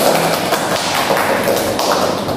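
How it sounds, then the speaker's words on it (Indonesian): A group applauds together after a short psychodrama performance about bullying in a group counseling session, with dense, loud, close clapping filling the whole moment without a break. "Baiklah, tepuk untuk kita semua."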